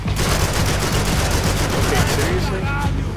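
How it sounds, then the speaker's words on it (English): Rapid gunshots from the video game Max Payne 3, a dense continuous burst of loud crackling fire with someone talking over it. "Shot you in the wrist once."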